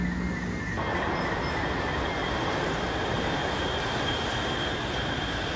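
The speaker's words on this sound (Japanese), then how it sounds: "帰りは湘南モノレールに乗るために湘南江ノ島駅にやってまいりました。" Shonan Monorail train at Shonan-Enoshima station in Japan, a steady, continuous rolling rumble with a faint high whine throughout, close and fairly loud, with no voices.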